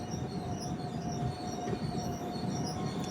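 Near Gudur junction, an express train's wheels keep up a sustained high squeal with a steady mid-pitched whine, riding on a loud constant rolling rumble heard from inside the coach.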